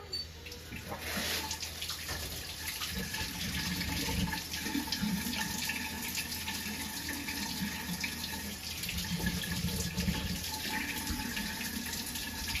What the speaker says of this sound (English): So we're gonna give it a little rinse off.